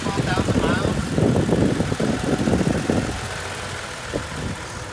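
A 2017 Toyota Tacoma pickup with just under 12,000 miles idles with a steady, close low rumble, and a person talks over the engine for most of the stretch.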